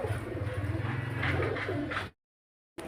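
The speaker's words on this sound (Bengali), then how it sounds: "এখানে দেখতে পাচ্ছেন একজোড়া মুশকি পায়রা" A pair of Mushki pigeons coo in low, throbbing, rhythmic pulses close by. The sound stops abruptly near the end and resumes briefly.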